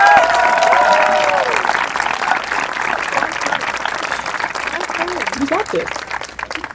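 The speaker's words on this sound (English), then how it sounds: "Let's all give a round of applause to Miss Tiffany Flint." Audience applause at a firefighter training program graduation, loud and dense at first and gradually thinning, with cheers and a spoken voice over the clapping.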